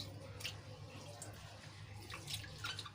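Rice and lentils for khichdi being washed and rubbed by hand in water, a faint close sloshing with light splashes and trickles over a low background hum, with no talking.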